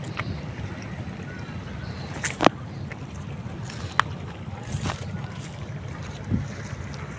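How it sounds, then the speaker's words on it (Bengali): A fishing trawler's low engine chugs steadily on the Padma river under wind noise and lapping water, with a few sharp knocks and clicks nearby. "খুব সুন্দর যে মাছের ট্রলার চলে আসছে।"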